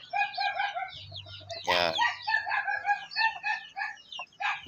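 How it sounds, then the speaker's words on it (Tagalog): A flock of Shamo and native chickens, mostly hens, clucking busily up close, with one loud rooster crow breaking through midway. "iba talaga yung laki ng mga oriental breed na manok compare natin sa pure native"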